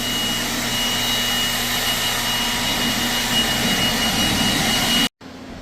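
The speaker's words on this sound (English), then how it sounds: "He's going to blow the water off" A powerful air blower roars in a steady, close whooshing hiss for several seconds, blowing water off a tractor, then cuts off abruptly.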